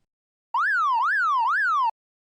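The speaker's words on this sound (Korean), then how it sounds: "몇 분 뒤 골목 끝에서 사이렌 소리가 실제로 들려오기 시작했습니다." A siren sounds from the end of an alley, three rising-and-falling sweeps, loud and clean against silence and cut off abruptly.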